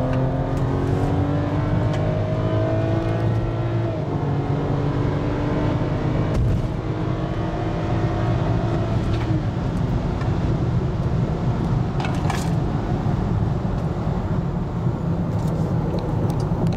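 A BMW F25 X3 35i M-Sport being driven gives a loud continuous engine and exhaust drone, rising in pitch under acceleration through several gear changes, with road and wind noise throughout.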